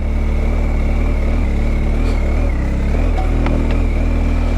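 A big adventure motorcycle crawls in first gear along a dry bush track, its engine a steady, loud, low drone at close range that runs throughout without letting up.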